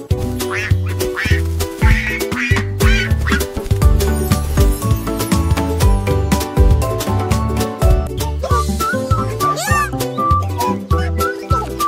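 Duck quacks ring out repeatedly within a lively French children's nursery song about a duck who loved doughnuts, loud and upfront over busy music for the whole stretch.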